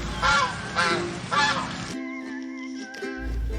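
Three quick, loud, nasal honking quacks from a duck in a close, clear burst, then a fainter held tone trails off.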